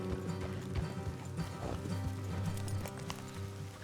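Horses trot in Red Dead Redemption 2, a steady rhythmic clip-clop of hooves running throughout, fairly close, over a low ambient game background.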